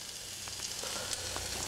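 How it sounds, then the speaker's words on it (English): Brewing wort boils over on a stove, giving a steady hissing sizzle with faint crackles, close and continuous. "This stuff boils over real easy."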